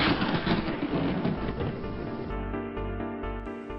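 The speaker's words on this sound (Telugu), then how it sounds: "అక్కడ ఒక పెద్ద మెరుపు వస్తుంది. దీనిని పిడుగు అంటారు." Thunder from a storm with rain, a heavy rolling rumble that fades into a long low drawn-out growl with no voices.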